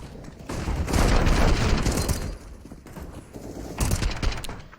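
Bursts of CS:GO gunfire on the Mirage map during a FaZe vs. Renegades ESL One Cologne 2019 match, loud rattling volleys in two waves separated by a brief lull.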